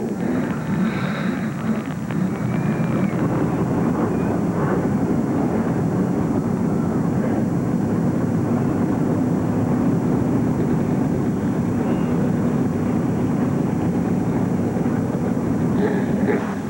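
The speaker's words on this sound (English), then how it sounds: "Gentlemen, start your engines." NASCAR Winston Challenge race cars firing up their engines at Tucson Raceway Park: a loud, steady, deep rumbling drone that holds evenly from start to finish, with no break and no voices.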